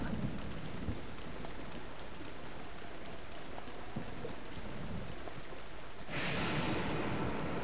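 Steady rain falls across an outdoor area of The Legend of Zelda: Breath of the Wild, a dense, even hiss throughout that swells slightly louder near the end, with no talk.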